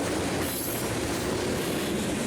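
A heavy BNSF freight train rolls through the historic Northern Pacific rail center in Brainerd, Minnesota, with a continuous loud roar of wheels and cars and faint squeal and clatter throughout.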